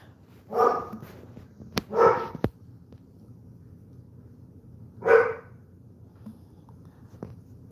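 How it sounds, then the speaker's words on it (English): A pet dog barks indoors in three sharp, loud barks: two close together, then one more after a few seconds of quiet, with no talking over them. "Don't mind the barking. That's my dog."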